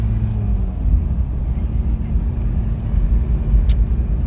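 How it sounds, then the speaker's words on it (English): A Toyota Hilux engine drones steadily up close, with a dense low rumble and a slight shift in tone partway through as it changes gear; there's no talking. "The Top Gear Hilux, whenever it upshifted or downshifted, it made this noise."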